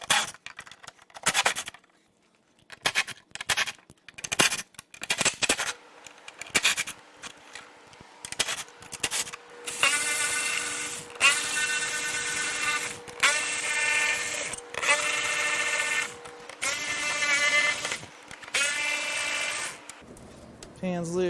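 Bolts are zipped out of the front end of a C4 Corvette parts car with a power tool, in short bursts of whirring and grinding between clanks and quiet pauses, with bursts growing longer and closer together later on.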